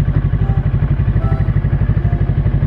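An FKM Falcon x400 400cc motorcycle engine idles close by with a steady, loud, rapid pulsing thump that holds an even rhythm throughout.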